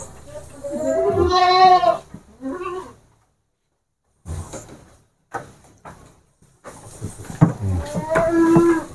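Red Kaligesing PE goats and their young kids of contest quality bleat loudly and close by in several wavering calls separated by short pauses, with a voice briefly in the background.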